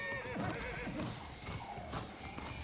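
A horse in the video game New World neighs while its hooves clip-clop steadily, mixed with other in-game sounds at moderate loudness.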